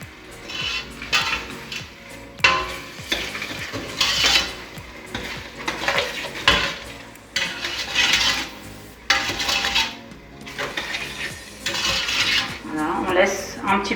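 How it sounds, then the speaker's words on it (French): A spoon scrapes and clinks around a pot while stirring a homemade ketchup mixture of tomato concentrate, sugar and four spices, irregular close strokes rising and falling in loudness with a soft sizzle beneath. "Hop, et on remet tout Ensuite, ça."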